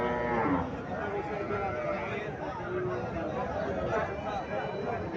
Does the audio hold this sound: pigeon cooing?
no